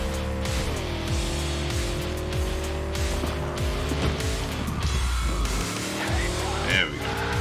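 An Akira motorcycle ridden in Cyberpunk 2077 roars loudly and steadily throughout, its engine pitch rising and falling with gear shifts and accompanied by tire squeal and road noise.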